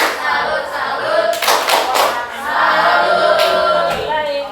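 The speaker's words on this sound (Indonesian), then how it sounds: "Kelompok 5 tepuk salut" A classroom group of students performs the rhythmic 'tepuk salut' clap, with bursts of sharp hand claps in a patterned sequence and voices chanting along.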